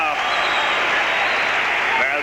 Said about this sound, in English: The crowd loves it here.